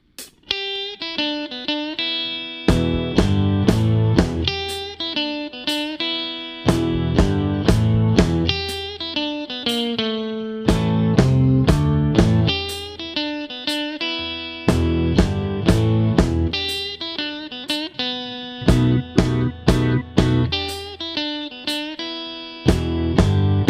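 An electric guitar plays a solo version of a blues tune, with punchy rhythmic stabs and note runs in repeating phrases, loud and close with no talking.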